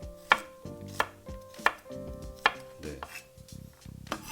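Knife slicing garlic cloves on a cutting board, about five distinct sharp chops at an uneven pace, close and clear, followed by a few softer cuts; a brief word is spoken.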